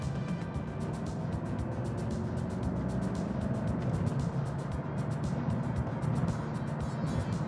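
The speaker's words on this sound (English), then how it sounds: "Nice muted V8 hum, but nothing like a muscle car or anything like that" Steady, muted V8 drone inside a Mercedes-Benz 500SEC AMG on the move, a low continuous hum with road rumble beneath it, even and unbroken throughout.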